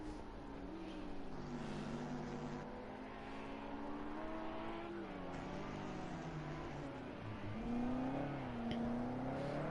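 A race car takes a corner in second gear at Circuit of the Americas, its engine note sweeping and shifting in pitch as it brakes and accelerates through the turn, heard fairly close and steady throughout.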